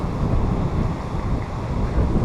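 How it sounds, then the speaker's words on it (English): Steady, fresh wind blows at Oroville Beach, buffeting the microphone with a continuous loud rumble and a hint of surf beneath it, and no voices. "it's nice, windy but good, breezy, fresh breezy"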